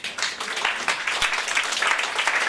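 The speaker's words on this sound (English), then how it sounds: "can I get you to start clapping at a low level again?" A comedy-night audience claps steadily at a low, even level, a dense patter of many hands with no one speaking.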